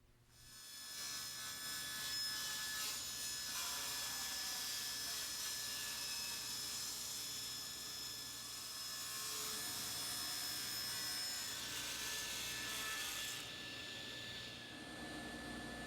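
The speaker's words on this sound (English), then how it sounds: "to cut the bevel, we're going to use a ripping blade set at a 45-degree angle at the table saw" A table saw fitted with a ripping blade tilted to 45 degrees bevels black walnut stock, a loud steady whining roar that runs through the cut with a slight dip near the end, close up.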